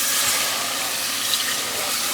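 Two cups of milk pour into a pan for a macaroni and beef casserole, a steady close splashing gush that continues without pause, with no talking.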